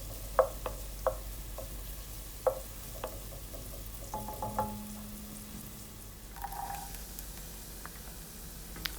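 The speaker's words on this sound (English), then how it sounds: "Then add in 3 cloves of garlic and saute them until they're also soft" Three cloves of garlic sautéing with onion in a pan for Turkish lentil soup, a faint steady sizzle broken by soft clicks and scrapes of stirring, with no talk.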